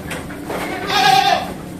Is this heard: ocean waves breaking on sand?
no